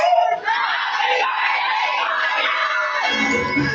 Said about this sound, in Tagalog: Lahat po nandito sa ating venue will shout, Happy Birthday, Marian.